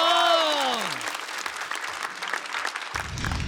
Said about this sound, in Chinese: 热烈的掌声有请